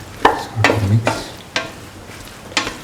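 A spoon stirs tomato pieces into a potato stew frying in a pan, making four or five distinct scraping strokes over a steady soft sizzle, close and clear with no talking.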